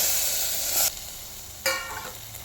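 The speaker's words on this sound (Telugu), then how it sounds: "అదే గిన్నెలో టమాటా వేపుకుందామండి" Tomatoes frying in a pan make a loud hissing sizzle, with two sudden louder bursts as pieces hit or are stirred in the hot oil, then settle back to a softer crackle.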